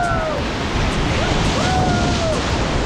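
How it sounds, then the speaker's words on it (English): River Ganga rapids churn in a loud, continuous rush of whitewater during a raft trip, with faint whistling tones sliding above the steady roar. "rafting through the blustery waters of River Ganga"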